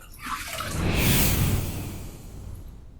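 Running water splashes as a razor is rinsed under a tap after a wet shave, a rushing whoosh that swells to a peak and then tapers off, heard alone and close.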